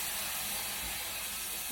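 Steam hisses from a cooking pan, a steady broad rushing hiss that stays constant and fairly close, with no voices.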